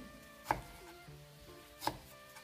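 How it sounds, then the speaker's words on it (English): A knife chopping an onion on a cutting board for chicken fajitas, two distinct sharp chops spaced over a second apart with quiet kitchen background between. "I'm using one full onion because it's nice and flavorful, and we do like onions."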